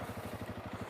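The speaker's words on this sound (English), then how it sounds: "The old fan's running on the bike now." A Honda CRF300L motorcycle's cooling fan whirs steadily near the bike, with a rapid, even pulsing rumble throughout a brief stretch and no talk.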